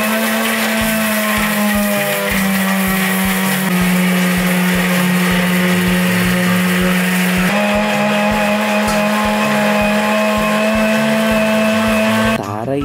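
A mixer grinder jar grinds coriander with a loud, continuous electric whine, its motor pitch shifting slightly as it runs close up for over twelve seconds before cutting off at the end.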